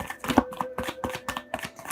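Cards from an Osho Zen Tarot deck being shuffled by hand, heard as a quick, steady run of soft papery riffles and taps repeating about every quarter second, close and fairly quiet, with no talking.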